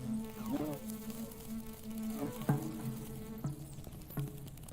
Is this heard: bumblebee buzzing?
yes